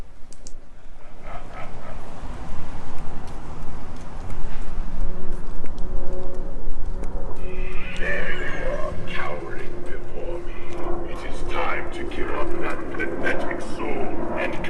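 A horse neighs and snorts amid clopping hooves and clicking harness outdoors in Charleston, South Carolina, the whinnies coming loud and close in the second half over a busy background.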